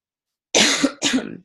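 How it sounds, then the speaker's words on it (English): Two quick, close coughs from a person with a cold, a harsh burst followed by a slightly shorter second one after a brief pause, in an otherwise quiet room. "So I'm sorry if I cough"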